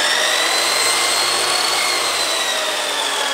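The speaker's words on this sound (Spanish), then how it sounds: "Un taladro para batir la masa." An electric drill whirs continuously while beating dough, a steady, fairly loud mechanical whine with grinding texture and no pauses.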